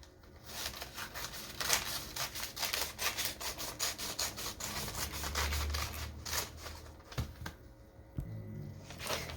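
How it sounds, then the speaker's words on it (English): Scissors slice through folded paper into strips with soft, faint, continuous rasping and rustling, quiet and close, with no voices. "And you'll cut the strips."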